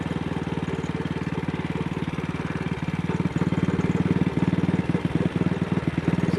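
AJS motorcycle engine running on slight throttle while riding, a steady low thudding beat with uneven, stumbling pulses that hint at a misfire, close and loud throughout.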